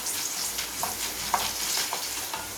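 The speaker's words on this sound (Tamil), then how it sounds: "வச்சு சிம்மில் வச்சுட்டு நம்ம இதை நல்லா கோல்டன் ப்ரௌனில் வர வரைக்கும் நம்ம வறுத்துக்கலாம்" Ingredients for temple-style puliyogare frying in a pan over a simmer, a continuous close sizzle with scattered crackles and a few stirring scrapes, no voices.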